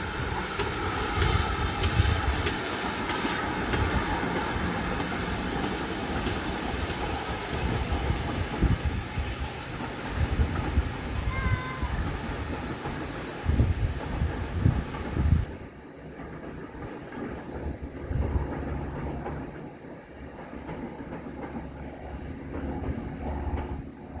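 A train rumbles steadily across the Oldbury Railway Viaduct above a mill near Bridgnorth for over twenty seconds, a broad roar of wheels and engine that eases off slightly toward the end.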